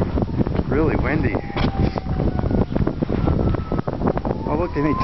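Strong gusting wind roars and buffets the microphone outdoors during a Chicago blizzard, a continuous loud rush with people talking over it.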